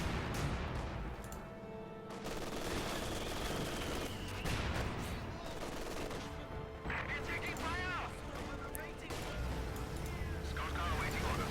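Mortar fire in the Company of Heroes 2 real-time strategy battle booms among dense, continuous gunfire and crashing explosions, with a commentator talking over the chaotic, layered combat.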